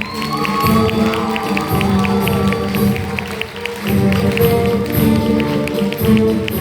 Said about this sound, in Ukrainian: А тепер я прошу ваші бурхливі оплески нашим артистам.